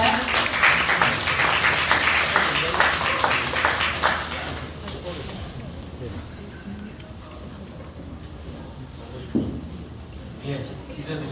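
An audience at a policy forum on sustainable growth in Gumi applauds with dense, loud clapping that tapers off after a few seconds, leaving a quieter hall with scattered small sounds.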